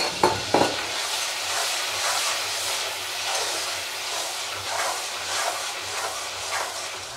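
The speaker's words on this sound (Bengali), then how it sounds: "এবার সব শুদ্ধ মশলাগুলো খুব ভালো করে ভেজে নিই।" Whole spices for a chole curry sizzle and fry in a pan, a steady loud hiss with gentle pulsing as they are stirred, a couple of sharp clinks at the start, no talking.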